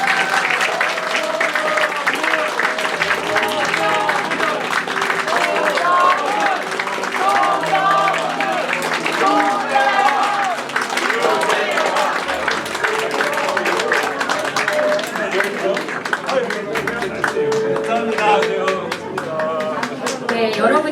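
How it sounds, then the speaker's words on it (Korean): An audience at a political talk concert gives loud, sustained applause as two guests walk in, a dense wash of clapping that carries on under a voice talking. "여러분의 큰 박수에 힘입어 두 분이 등장하셨습니다"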